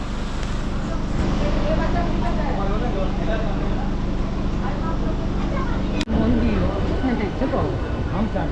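A local train on the Howrah to Digha run rumbles along steadily and close, with a brief sharp break partway through, and a person talks over the running noise.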